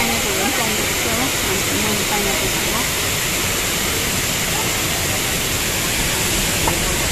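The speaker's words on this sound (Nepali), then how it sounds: "यहाँ मुनि यस्तो पानी जाँदोरहेछ यहाँबाट फल्सबाट आएको पानी" Water from Bakthang Falls rushes past in a loud, steady, continuous roar close by, a broad unbroken wash of noise, with faint voices beneath it.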